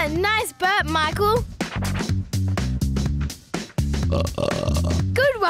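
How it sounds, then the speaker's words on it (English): A boy lets out several loud, drawn-out burps in quick succession, with children talking, laughing and adding more belches in a noisy backyard contest. "Nice burp, Michael."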